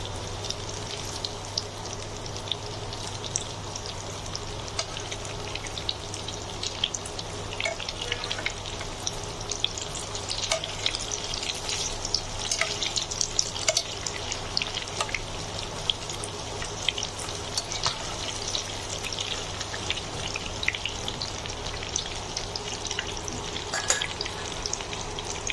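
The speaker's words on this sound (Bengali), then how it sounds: "আমার ফুলকপিগুলো এক পাশ ভাজা হয়ে গেছে। এবার আমি একটু উল্টে দিচ্ছি।" Cauliflower pieces, fried with egg, crackle and sizzle steadily in a pan for the whole stretch, with occasional scrapes and taps as they are turned over; no talking.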